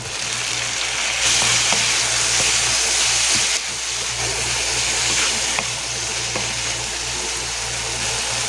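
Shrimp with garlic and tomatoes frying in a pan, a steady loud sizzle and crackle that fills the whole stretch, close up with no voices.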